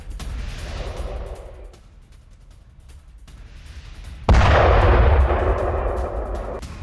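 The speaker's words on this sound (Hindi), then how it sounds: "बगदाद एयरपोर्ट के पास जोरदार धमाका हुआ है" Loud explosions near Baghdad airport during an Iranian ballistic missile and drone attack, with a booming blast, a quieter gap, then a second heavy roaring burst that lingers as rumbling fire and debris noise.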